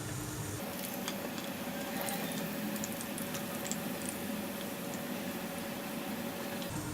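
Eggplant slices for begun bhaja frying in hot oil in a pan on the stove: a steady, continuous sizzle and crackle that holds close and even throughout, with faint ticks and no voices.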